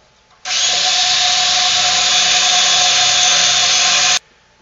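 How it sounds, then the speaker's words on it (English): A power drill bores a quarter-inch pilot hole in the bend of a bin. It gives one steady, loud, close whine of about four seconds that starts and stops sharply. "Then want to drill a quarter inch pilot hole in the bend."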